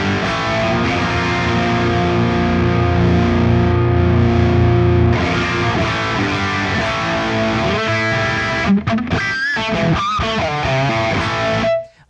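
Big electric guitar chords driven through a HotRod overdrive effect, thick and distorted with long sustain, changing shape midway and ending in choppier strums before cutting off, with no talking.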